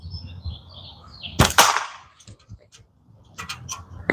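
Slingshot shot hitting a target at shooting practice, a sharp loud impact smack followed by a few fainter ticks and a second cluster of taps, outdoors and close.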